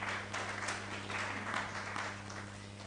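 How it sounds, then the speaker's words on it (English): An audience claps at a moot court competition, a soft, steady patter of applause heard from a distance in a hall, fairly faint and lasting the whole moment without any voices. "Please clap for him."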